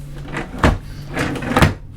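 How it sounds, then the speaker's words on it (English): A sticky drawer in a cruise ship cabin on the Holland America Zaandam is pulled open and pushed shut, making a few quick wooden scrapes and thuds in close succession, near and clear, with no voices. "This drawer is a little sticky."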